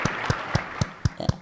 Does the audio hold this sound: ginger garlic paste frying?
no